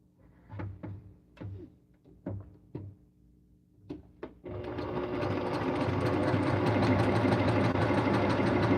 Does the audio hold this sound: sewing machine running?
yes